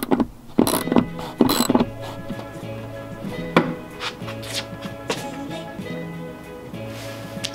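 A ratchet loosens 12 mm car seat bolts with rapid close clicking bursts, interspersed with knocks and metallic clanks of the tool.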